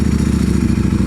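A Ducati Streetfighter V4 motorcycle is ridden with its engine running loud and close, giving a steady low throbbing rumble with a fast pulsing beat and no talking.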